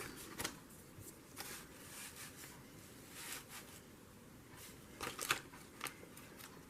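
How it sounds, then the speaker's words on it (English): Scissors snip through a paper bag to trim it to size, a few faint, scattered crisp cuts with paper rustling in a quiet room. "All right, cut this to size."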